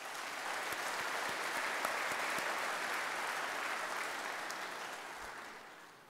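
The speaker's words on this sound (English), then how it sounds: "Let's give those companies a round of applause." Audience applause at the 2023 TPS Distributor of the Year presentation, a steady wash of many hands clapping at moderate distance that swells briefly, holds for several seconds, then tapers off.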